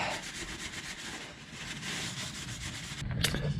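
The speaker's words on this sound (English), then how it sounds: "Let me give this a quick wipe, and then front is complete." A rag wiping clean the front differential of a 2016 Ram 2500 Power Wagon, steady close rubbing and swishing strokes, ending with a brief sharper scrape.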